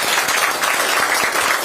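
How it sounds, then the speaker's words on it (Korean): A large crowd at an indoor Democratic Party meeting in Yeonggwang, South Jeolla, claps in a thick, continuous burst. It is loud and close throughout the short stretch, with no speech over it. "격려의 큰 박수 좀 부탁을 드립니다"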